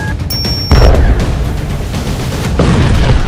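A loud pager bomb blast in Lebanon bursts out abruptly, followed by a rumbling, crackling roar that lingers, with a second surge of noise near the end.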